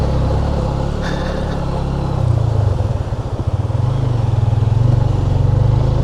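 Motorcycle engine straining up a steep mountain track in a valley, a close, loud low drone that dips briefly mid-way and then settles into a steady throbbing pulse, with no talking.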